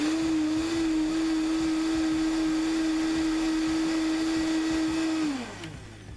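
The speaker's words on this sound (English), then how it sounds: "we're just going to give this a final buzz with the last of our kvass" A blender whirs loudly and steadily as it purées an uncooked fermented hot sauce with kvass, a high constant motor whine that winds down near the end.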